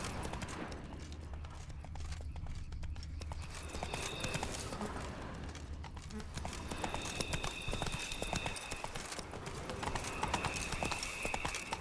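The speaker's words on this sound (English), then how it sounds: "Horses must have gotten spooked." Horse hooves clip-clop steadily through a nighttime forest scene in the video game The Witcher 3: Wild Hunt, with faint whinnying over a continuous ambient bed.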